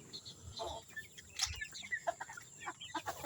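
Native chickens cluck and murmur close by on a farm, a busy overlapping chatter of short soft clucks and peeps at low volume, with no talking.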